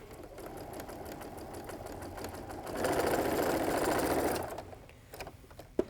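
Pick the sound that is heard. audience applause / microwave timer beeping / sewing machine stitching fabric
sewing machine stitching fabric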